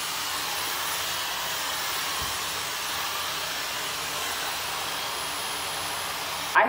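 A hair dryer with a diffuser attachment roars in a steady, close, unbroken whoosh while drying hair, holding an even level throughout before a brief knock at the very end, with no talking.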